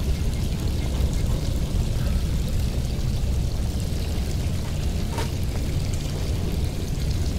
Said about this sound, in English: No, the water's rising.